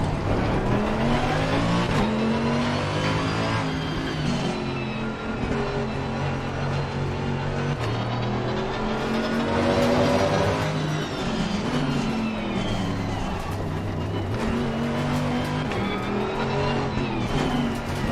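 A race car laps in the sim racing game Assetto Corsa Competizione, its engine droning steadily and rising and falling in pitch through gear changes and corners, loud and continuous with no talk.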